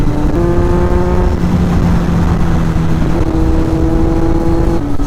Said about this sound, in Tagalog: kahit tinira ko na yung catalytic niya, napakaingay pa rin niya